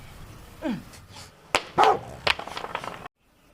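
A dog barks a few times in short, sharp bursts close by, with a whiny yelp among them, then the sound cuts off abruptly.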